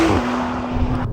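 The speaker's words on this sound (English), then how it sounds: "You guys can hear that lovely exhaust wake up." A Porsche 991.2 Carrera S exhaust swells under acceleration, a close, steady engine drone with a sustained tone lasting about a second.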